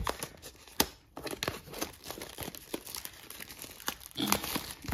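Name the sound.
opening a Pokemon Scarlet and Violet booster pack wrapper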